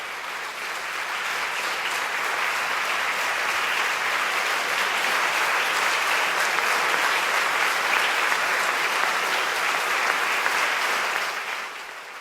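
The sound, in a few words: audience applause in Trinity Church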